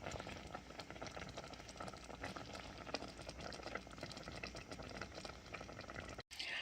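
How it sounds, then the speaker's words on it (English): Thick apple pie jam bubbling steadily in a pot as it reduces, a dense, continuous bed of small pops and simmering gurgles at moderate loudness, with no voices over it. "Our mixture has greatly reduced, and you can see it's at a nice bubble."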